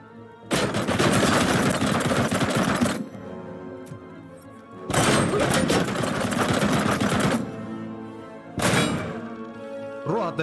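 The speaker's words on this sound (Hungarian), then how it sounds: "Rohadt nagyokat sebez az ágyú." Heavy cannon fire from the RoboCop: Rogue City video game, delivered in three long, loud rattling bursts separated by short lulls, each burst a rapid drumming stream of shots; a faint voice can be heard in the pauses.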